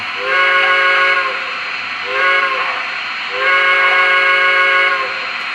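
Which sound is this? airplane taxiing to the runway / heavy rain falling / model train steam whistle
model train steam whistle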